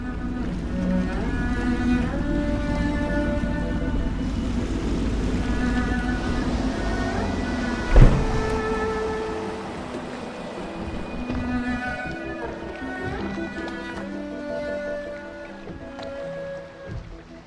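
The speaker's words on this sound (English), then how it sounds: "I should concentrate on piloting this boat." A steady low boat engine rumble with washing water runs throughout, mixed with tonal game music, from a boat piloted in the video game Dishonored.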